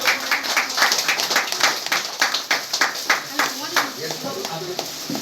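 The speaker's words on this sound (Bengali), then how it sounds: "আমরা সবাই মিলে একটু করলের হাত তালি দেবো" An audience at a political preparatory meeting applauds in a sustained, rhythmic burst of clapping, with voices talking over it.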